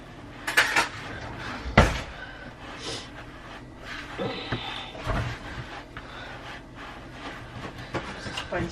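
Spices and grated Parmesan are stirred together in a bowl, with scattered clinks and scrapes of a utensil against the dish close by and a few sharper knocks among the softer mixing sounds.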